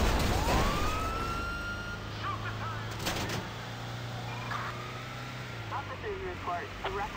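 Police sirens wail through a chase in the video game GTA 5, rising and falling over a steady engine drone with scattered game effects, while someone talks over them.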